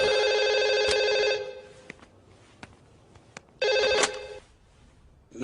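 A telephone rings loudly in a Bollywood comedy film scene: two long ringing bursts separated by a quiet gap with a few faint clicks.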